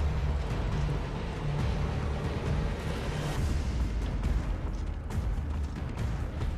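Dense, continuous gunfire and booming battle noise from the video game Gears of War: Judgment, a loud sustained barrage with heavy low rumble and no pauses.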